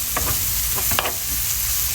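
Garlic sizzles in a large frying pan while it is stirred, with a steady close sizzle broken by a few scraping strokes of the utensil.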